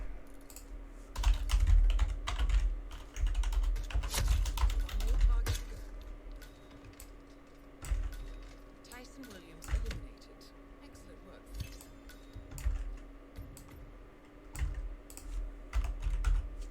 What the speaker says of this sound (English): Going to have more intense typing.